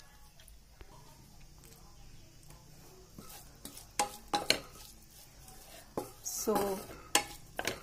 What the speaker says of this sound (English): I will just let this onions get translucent, so I will fry it for another 2 minutes